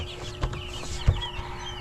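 Five-day-old broiler chicks in a coop cheep and cluck nearby, with short bright calls scattered over a low background and a couple of soft thumps.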